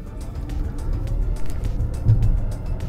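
An Audi e-tron electric car accelerates at full throttle in Sport mode, a low, steady whirring rumble of motor and road noise building evenly from inside the cabin.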